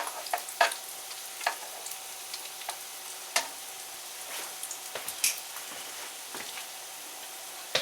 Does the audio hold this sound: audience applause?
no